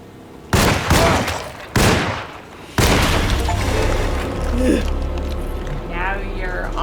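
Gunfire in the video game Alone in the Dark: three heavy, booming shots spaced about a second apart, each with a long rumbling decay, followed by lingering low rumble and game sounds.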